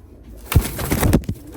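Mantolu pigeons, a male and a female, give a few soft, low coos up close, brief throaty pulses with light rustling between them.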